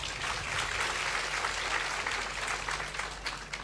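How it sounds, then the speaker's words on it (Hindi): Audience applause in a hall during a spiritual question-and-answer session with a guru, steady dense clapping sustained throughout without talk. "सवाल के लिए तालियां बजाइए"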